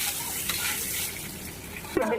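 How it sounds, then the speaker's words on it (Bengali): Potatoes frying in mustard oil make a dense, continuous sizzle and hiss up close, with a brief stirring clatter near the end. "আমাদের আলু লাল লাল করে অলরেডি ভাজা হয়ে গেছে"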